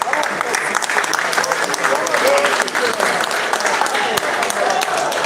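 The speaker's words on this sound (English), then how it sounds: "the round of applause from the fans" Fans applaud steadily at a money pool match after the black ball is potted, a dense, even round of clapping that carries on for several seconds.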